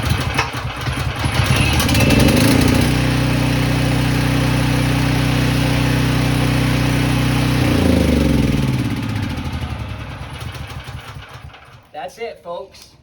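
Briggs & Stratton portable generator engine, choked, starts with a loud rough burst and settles into a steady idle, then fades and cuts out near the end with some clatter.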